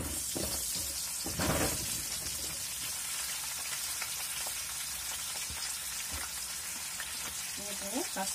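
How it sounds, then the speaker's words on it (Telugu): Oil frying for a brinjal curry, with 1.5 kg of eggplant prepared: a continuous close crackling sizzle, with a burst of louder spatter early on. "ఫస్ట్ బాగా ఆయిల్ గా వేయించేస్తాను"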